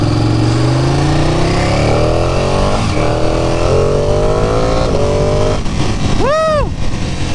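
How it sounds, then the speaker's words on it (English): A motorcycle revving hard and accelerating close by, engine pitch climbing in steps as a quick shifter snaps through gears, then a sharp high rev sweep near the end. "There is nothing like hitting the quick shifter on this fucking bike."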